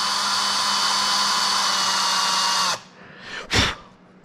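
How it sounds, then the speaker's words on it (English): A vacuum cleaner drones loud and steady up close, then cuts off abruptly, leaving a short wind-down and one brief whoosh of air before quiet. "I'll be vacuuming"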